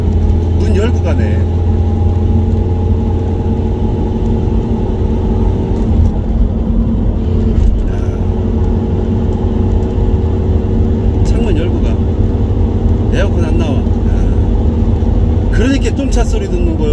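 An old Cadillac engine rumbles and drones steadily up close while driving with the windows open, for the whole stretch, with road noise and occasional rattles; people talk over it.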